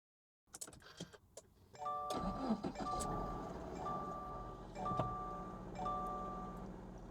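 A repaired car's engine cranks and catches, then settles into a steady idle close by while repeated chime tones ring from the dashboard.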